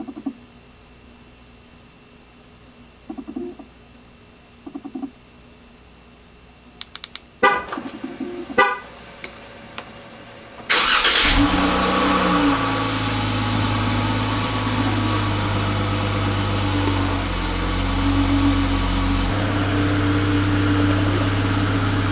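A 2019 Dodge Charger SXT with a few soft electronic chimes and clicks before the engine cranks and catches, then settles into a loud, steady idle that continues close by until the end.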